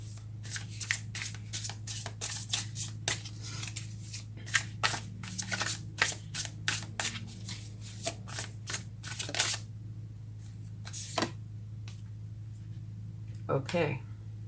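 Tarot cards being shuffled by hand, a close, rapid run of crisp riffling snaps that thin out and stop, then a last short burst near the end, with no talking.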